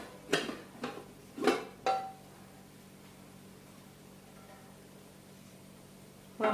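Plate set over a pan to flip a Spanish omelette, a few quick clattering knocks and scrapes of crockery against the pan at the start, then near quiet before another clank at the end.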